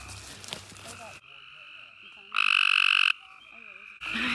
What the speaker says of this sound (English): Hear those frogs, though? You hear them.